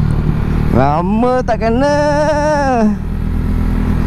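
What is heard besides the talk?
Modenas ZX-25R motorcycle engine while riding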